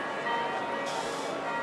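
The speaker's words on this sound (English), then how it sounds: "There's the bells." Bells ring steadily in the stands at an AFL football match, a bright continuous peal that carries throughout with a commentator's voice faintly underneath.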